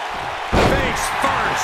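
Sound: wrestling slam, face-first slapjack

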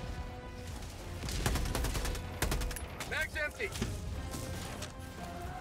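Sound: strafing gunfire in a video game

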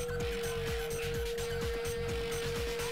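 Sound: car driving in Gran Turismo 2 video game

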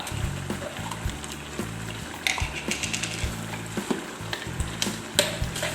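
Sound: stir-frying chili in a pan

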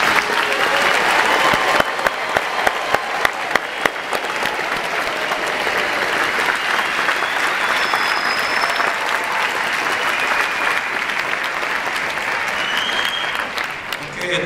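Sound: audience applause at naturalization ceremony

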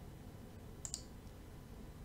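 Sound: computer mouse clicking

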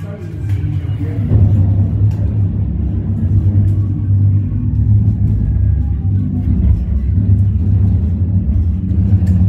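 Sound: car rumbling through a WW2 air raid shelter

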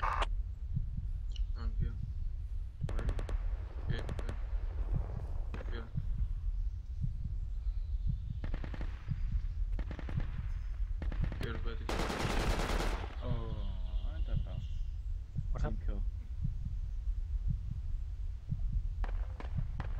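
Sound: gunfire in Project Reality video game

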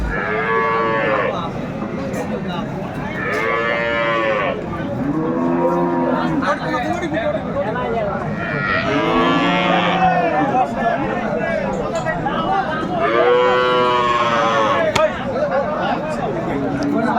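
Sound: cows mooing

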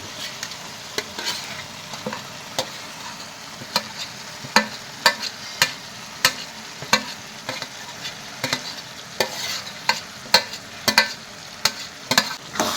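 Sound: stirring fried turmeric in a pan

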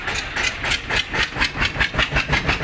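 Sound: tractor engine started and running

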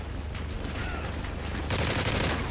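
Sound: sentry gun firing in the video game Modern Warfare 3

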